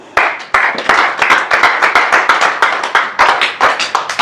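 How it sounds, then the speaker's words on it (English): An audience at a seminar claps in a fast, even rhythm, each sharp clap distinct and close, repeating steadily for a few seconds with no voices over it. "Clap for UNO."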